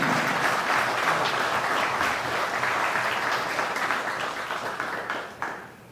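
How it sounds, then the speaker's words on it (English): An audience at a tribute ceremony applauds Corporal J. Jairam, a serviceman receiving a service medal, with a sustained, even wash of clapping from many hands that tapers slightly at the end. "ask all of us to applaud this serviceman"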